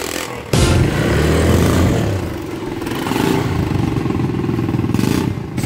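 A motorcycle ridden in Palawan, its engine starting loud and close after a brief quiet moment, then running steadily with a clattering mid-pitched drone that dips and rises again as it moves along.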